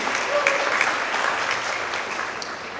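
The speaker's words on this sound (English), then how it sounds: "Give a round of applause." An audience at an international student graduation celebration breaks into steady, full applause, many hands clapping at once with a few sharper claps standing out, strong at first and then easing slightly toward the end.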